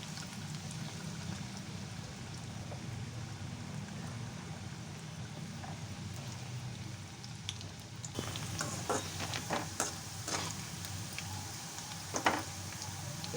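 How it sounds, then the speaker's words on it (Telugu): Bitter gourd pieces deep-frying in plenty of oil for a pickle, a low, even bubbling hiss like light rain, then sharper crackles and stirring clicks later on, moderately quiet and without talk. "ఇలా నిండు నూనెలో కొద్దిగా గోధుమ కలర్ వచ్చేంత వరకు వేపుకోవాలి."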